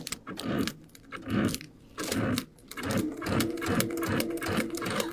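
A Brother sewing machine fitted with a couching foot stitches down cording in steady whirring bursts, pausing briefly between runs, with light rattling clicks over the motor hum.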